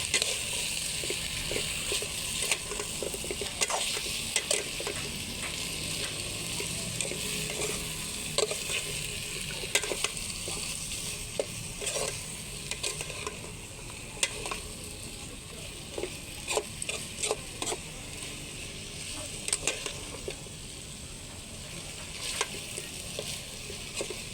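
Sautéed meat, vegetables and tomatoes with corn are stirred steadily in a pan, a continuous close sizzle broken by frequent scraping and clicking stirs that run throughout without any talk.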